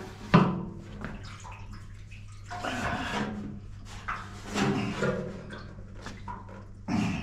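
Liquid sloshes and swishes inside a capped container while fluid is flushed from a 1966 Corvette with a catch tray placed below, the irregular wet swirls and knocks coming close up, with a sharp clunk near the start and another at the end.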